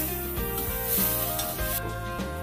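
Steady sizzling and stirring of chopped vegetables with green chilli and carrot in a hot pan, with a spatula scraping and clattering against the metal, close and continuous.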